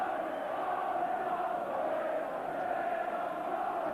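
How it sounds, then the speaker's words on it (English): Football crowd of nearly 28,000 at Anfield on Merseyside during Liverpool against Tottenham Hotspur on a wet, dreadful day, a steady distant roar of massed voices with a sustained chanting drone, no single voice standing out. "That's some crowd"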